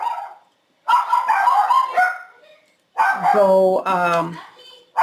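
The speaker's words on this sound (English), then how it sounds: "oh, I do apologize for the dogs." Dogs bark indoors in bursts behind someone talking, with short loud yapping barks rising over his voice, one cluster near the start and a louder run toward the end.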